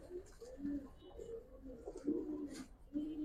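Pigeons, Giribaz and coloured fancy breeds kept in large numbers at a seller's place, coo in repeated low throaty phrases, fairly faint and near, with soft voices murmuring in the background.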